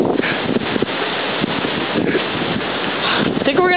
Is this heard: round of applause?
no